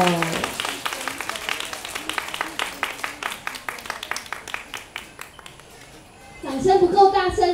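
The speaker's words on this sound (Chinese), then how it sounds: "掌声不够大声，所以音乐还没放啊！" Scattered audience clapping at a kindergarten graduation show, a sparse, uneven patter of hands that fades out before music and a voice come in near the end.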